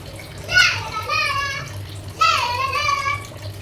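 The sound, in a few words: water being poured into a bucket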